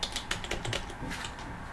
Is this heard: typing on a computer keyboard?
yes